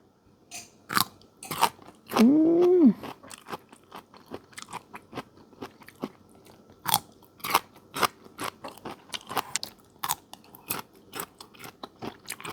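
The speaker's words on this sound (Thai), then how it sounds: "กินผักกูดต้มเล่นนะคะ กินกับน้ำพริกมะนาว" Someone eats boiled giant fern shoots with a lime chili dip: close, crisp crunching bites and chewing clicks repeat steadily, with a short hummed vocal sound early on.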